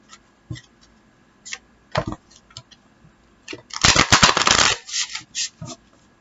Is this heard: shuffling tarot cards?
yes